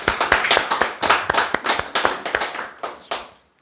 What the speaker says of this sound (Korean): 서로에게 박수 한번 하겠습니다.